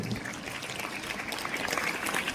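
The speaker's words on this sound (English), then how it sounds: "put your claps together for the now elected house captains and the school leaders" Students clap together for newly elected house captains and school leaders at a school investiture ceremony, a dense, steady round of applause filling the whole moment at moderate loudness.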